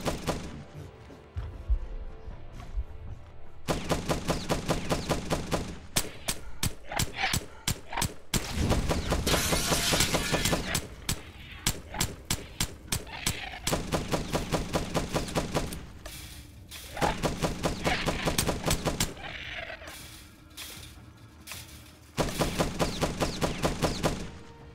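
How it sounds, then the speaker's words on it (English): Repeated bursts of automatic gunfire in the video game The Last Stand: Aftermath, loud and close, rattling in rapid strings separated by short pauses, with some longer sustained volleys and no talking over them. "I hear guns."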